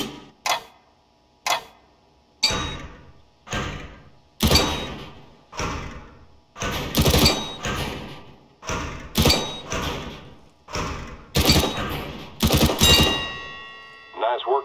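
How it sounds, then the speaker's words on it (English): Gunshots are fired at wooden targets in the Counter-Strike: Global Offensive tutorial, about a dozen sharp, loud reports each followed by a short decaying ring, spaced roughly a second apart with no one speaking. "pick up the weapon and shoot 5 bad guys for me"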